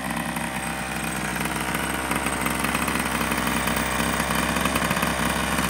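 A Rovan 45 piston-port two-stroke engine runs during break-in, holding a steady, loud, buzzing drone close by for the whole stretch with no talking.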